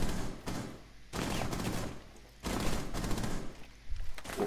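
Sustained automatic gunfire in the tactical shooter Rainbow Six comes in three long rattling bursts with brief pauses between them, heard at a moderate distance.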